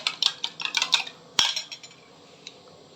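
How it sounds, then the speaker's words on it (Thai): A utensil beats eggs in a bowl with a rapid run of sharp clinks and scrapes, then a single louder knock, and the sound tapers off into faint, sparse taps. "เอาไข่มาตีนะครับ ตีตีตีตีนะครับ ผมตีมันเข้ากันนะครับผม"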